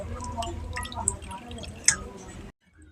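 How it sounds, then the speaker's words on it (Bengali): Tamarind pulp is pressed through a sieve, giving wet squishing and dripping sounds with a couple of sharp drip clicks, close and moderately quiet before stopping abruptly. "আমি ছাঁকনি দিয়ে ছেঁকে নেব।"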